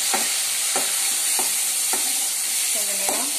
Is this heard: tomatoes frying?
yes